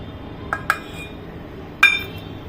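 A spoon clinks against the side of a bowl while rava cake batter with curd and oil is stirred, giving a few sharp, close taps spaced apart with quiet between them.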